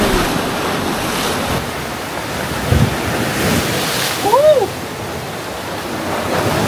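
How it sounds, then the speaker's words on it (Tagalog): Strong ocean waves surge and crash in a continuous roar with wind buffeting the microphone, loud and close, and brief vocal exclamations rise over the surf. "Grabe ang alon"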